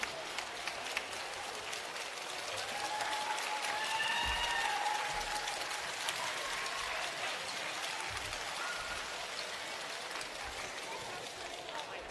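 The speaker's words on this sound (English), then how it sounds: "Give them a round of applause." Crowd applause for the winning team at the 2020 HART Sapphire Series netball grand final, Jets v Cougars, a steady wash of clapping lasting the whole stretch with a few voices mixed in.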